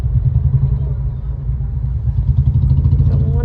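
Dense road traffic with cars and motorcycles on a road near a bus stand heading toward Mogappair, a loud continuous rumble of engines close by.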